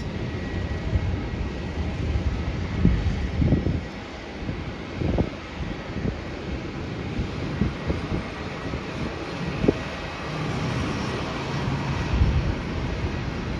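A Qantas airliner just in from Singapore rolls along after touchdown, its engines a broad steady roar with wind buffeting across the microphone and a few sharp knocks scattered throughout.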